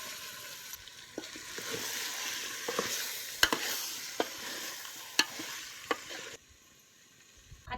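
Chicken pieces dropped into sizzling masala and oil in a pot over a wood-fired clay stove for spicy chicken rassa, with steady frying hiss, several sharp clatters of stirring, then quieter sizzling near the end.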